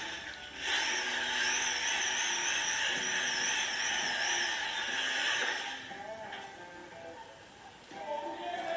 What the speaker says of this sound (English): So I will just keep drilling this, drilling.